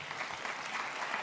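Applause from an audience at a 2014 development forum speech, a steady dense patter of clapping heard alone at moderate level for about a second.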